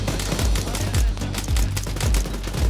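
Rapid automatic gunfire from an Arma 3 firefight, a dense fusillade of overlapping shots with heavy low thumps recurring about every half second, loud and close throughout with no talk.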